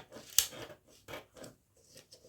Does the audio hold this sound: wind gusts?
no